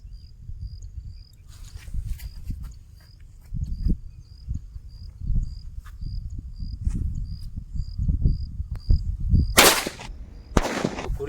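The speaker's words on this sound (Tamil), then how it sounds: "குறிவெடி ஓரளவுக்கு தாங்க வெடிக்குது" Kannan kuri vedi firecrackers from Sivakasi go off in two sharp, loud bursts near the end, over a steady insect chirp and low rumbling outdoor noise.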